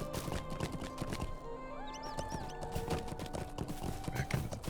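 Horse hooves clip-clopping in a quick, steady gait in the online game The Lord of the Rings Online (LotRO), with a whinny partway through and game effects layered over it.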